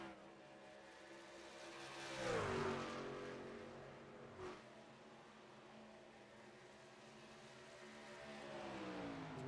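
A race truck engine in a racing video game revs hard and steadily, its whining pitch climbing and sweeping as the RPMs are held up through a corner. The engine is loud and continuous with almost no talk.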